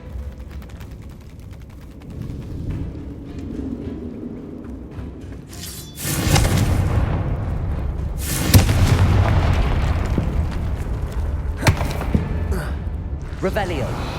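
Confringo fire-spell blasts in Hogwarts Legacy hit as loud booming bursts with crackling debris. A rumbling background sits underneath, and a voice speaks briefly.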